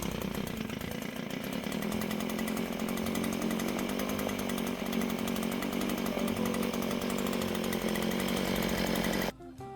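A small petrol auger engine starts and runs, a loud, continuous buzzing two-stroke drone held close for about nine seconds before cutting off abruptly.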